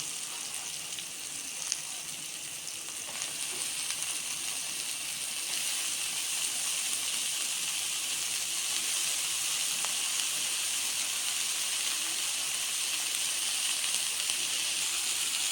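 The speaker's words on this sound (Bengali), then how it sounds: "বেগুনটা ভাজা ভাজা হয়ে গেল এবার শাকগুলো দিয়ে দিলাম" Chickpea greens being fried with eggplant, green chili and salt in a pan for a traditional Bengali dish, giving a steady close sizzle and hiss that swells slightly halfway through, with no talk.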